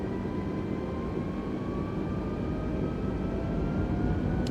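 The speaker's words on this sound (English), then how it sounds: "we're going to slowly increase our thrust here" Airbus A320 jet engines spooling up as thrust increases in Microsoft Flight Simulator, a steady loud turbine roar with a whine slowly rising in pitch, continuous throughout with no talking.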